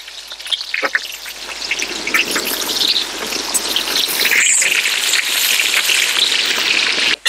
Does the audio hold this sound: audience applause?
no